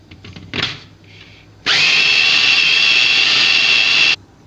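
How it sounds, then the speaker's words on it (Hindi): A mixer grinder grinding coriander seeds into powder whirs loudly and steadily for a couple of seconds after some brief clatter, then stops abruptly. "2-3 मिनट मिक्सी को चलाएंगे,"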